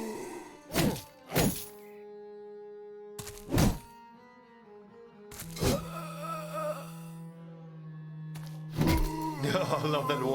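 Heavy warhammer blows land in the Battle Brothers video game as several sharp, booming thunks spaced a few seconds apart, with groaning tones and sustained game sound between them.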